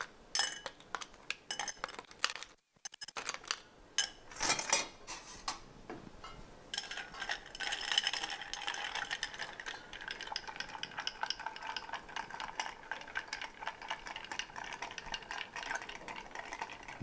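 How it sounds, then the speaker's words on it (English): A bar spoon stirs a cocktail in a mixing glass with quick, repeated metallic clinks and tinkling ice, close and continuous. "Well, we will stir it up."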